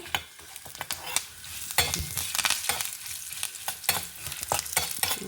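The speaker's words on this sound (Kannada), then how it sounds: "ಒಂಚೂರು ಫ್ರೈ ಆದ ಕೂಡಲೇ ಬೆಳ್ಳುಳ್ಳಿ ಎಲ್ಲ ರೋಸ್ಟ್ ಆಯಿತು" Dried red chilies, urad dal, garlic pieces, ginger and curry leaves fry in a spoonful of oil, a close crackling sizzle punctuated by frequent rhythmic scrapes and taps of a spatula against the pan.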